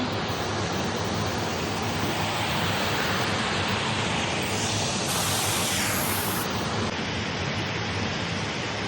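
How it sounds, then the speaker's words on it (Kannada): Loud, steady rushing water fills the whole stretch, a dense broadband roar without pauses, close and continuous with no voices. "ನೀರು ತುಂಬಿದೆ, ನೀರಿದೆ, ಜೋರು ಸೌಂಡ್ ಕೇಳ್ತಾ ಇದೆ"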